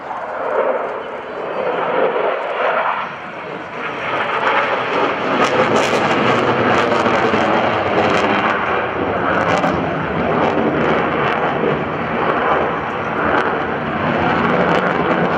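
An F/A-18F Super Hornet jet accelerates through a tight maneuver at an airshow, a loud, continuous engine roar that surges and wavers, with someone talking over it throughout.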